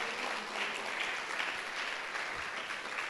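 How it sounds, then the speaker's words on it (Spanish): A church congregation applauds together, a dense, sustained wash of clapping from many hands that stays even in loudness, heard at a moderate distance with no clear speech over it. "Dele un aplauso a nuestro buen Señor y Dios y Padre Celestial"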